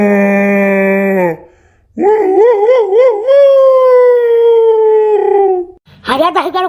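A jackal howls in long, wavering, rising-and-falling cries, loud and close, with a short pause between calls and a fresh howl starting at the end.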